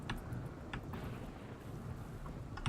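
Steady rain with low rumbling thunder in a RimWorld colony during a storm, a continuous wash of patter at moderate-low level with soft distant rolls and a few brief crackles, no voices.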